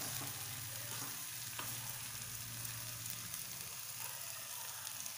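Beef roast being stirred as it fries in a pan, giving a steady, close sizzle with soft scraping from the stirring.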